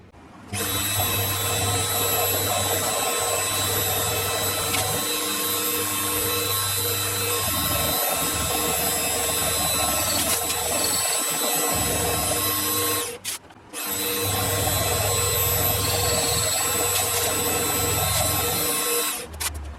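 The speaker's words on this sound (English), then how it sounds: "I machined two little 1mm deep flats down here" A milling machine cuts two shallow flats on a tailstock part in a home workshop, its steady whirring hum and cutting chatter running close and continuous, with one brief stop and restart.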